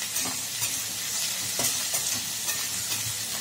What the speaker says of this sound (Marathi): आता बटाटे टाकलेत, बटाटे पण छान असं फ्राय होऊ द्यायचे पहा